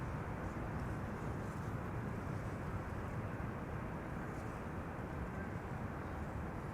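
KLM Boeing 777-300 airliner arriving at Schiphol after a flight from Atlanta, heard as a steady, broad jet roar that holds at an even level throughout with no voices.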